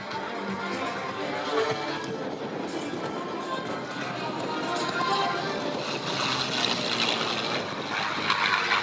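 A P-51D Mustang propeller fighter engine drones loudly and continuously at an airshow, a steady roar that holds throughout.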